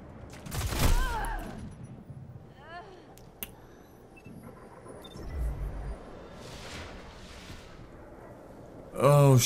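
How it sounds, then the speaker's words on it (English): Shotgun blasts in a PvP video game, a few sharp booming shots spread unevenly through a noisy game mix, with a loud burst near the end; a voice talks briefly over parts of it. "Oh, shotguns, man."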